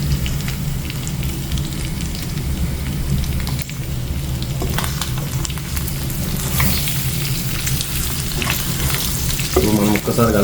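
Spicy chicken igguru being stirred as it fries in a pan, a steady close sizzle with scraping stirs throughout and a brief clatter near the end, with no talking.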